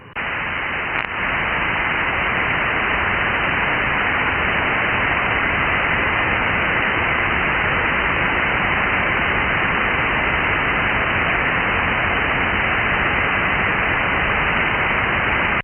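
Steady, loud, hissing static plays from an Icom IC-9700 radio receiver tuned to 144.250 USB. The noise is unbroken and even throughout, with no voices.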